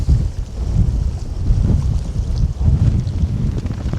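Strong wind blows steadily over an open-water feeder fishing world club championship final. The gusts buffet the microphone with a loud, continuous low roar, and no one speaks.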